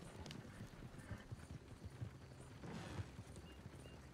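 Horse hooves clip-clop at a walking pace in the Red Dead Redemption 2 video game, faint and steady over a low ambient bed.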